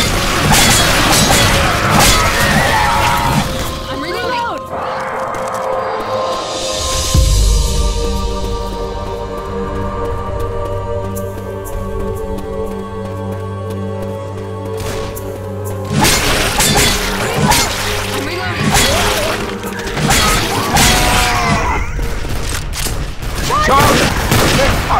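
Gunfire and smashing in the zombie shooter game Left 4 Dead 2, loud bursts of shots and crashes at the start and end with quieter tonal game sounds in between.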